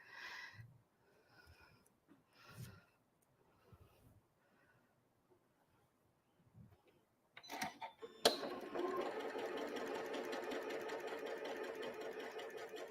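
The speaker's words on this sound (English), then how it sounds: "you're going to sew directly on all 12 of the E squares" A sewing machine stitching quilt block squares runs in a fast, continuous whirring burst after a few soft handling taps and rustles, close and moderately loud.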